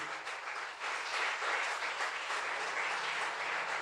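A church congregation applauds during a Spanish-language sermon, with steady, dense clapping from many people throughout, fairly close and sustained without pause.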